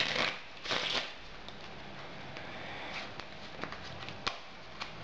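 A deck of playing cards is shuffled by hand during a card trick, giving two quick riffling bursts close up followed by faint scattered card taps.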